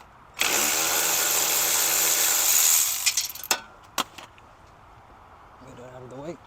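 A power tool, likely an impact gun, spins off a 10 mm bolt on a 2007–2010 Audi Q7 during a steering rack replacement: a loud, steady whir of about three seconds, then a few sharp clicks and a short voice near the end.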